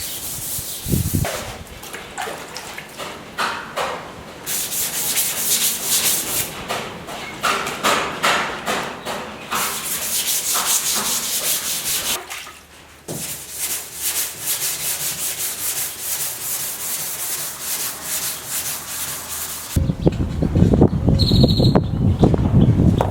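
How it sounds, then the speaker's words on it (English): Wet sanding the body of a 1972 El Camino by hand with 320-grit paper on a small block: loud, steady rhythmic rubbing strokes, continuous and close, with wind noise outdoors. "So we're gonna go to town wet sanding this."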